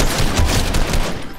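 Rapid gunfire from a shotgun in the video game Fortnite, a loud dense burst of overlapping shots that fills the moment and tapers off near the end, with no talking.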